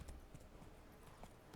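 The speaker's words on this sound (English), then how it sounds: "I suppose I can just take the horse all the way over there, right? I can just gallop." Hooves of Geralt's horse Roach galloping along a road in the video game The Witcher 3, a steady rhythmic clip-clop of hoofbeats under a constant game soundscape, moderately loud with no talking.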